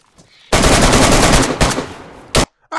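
Automatic AK rifle gunfire in the DayZ video game, a loud sustained burst lasting about a second, followed by a second shorter burst and a final single sharp shot, with no talking.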